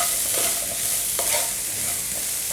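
Onions and small green chillies sautéing in oil in a pan for chicken roll filling, a steady close sizzle with repeated stirring scrapes throughout, no talking.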